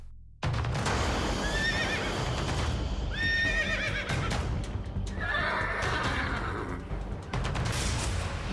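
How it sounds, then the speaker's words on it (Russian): A horse whinnies loudly several times over a busy background of hoof clatter and knocking. "Она громко ржет и зазывает к себе утопленников."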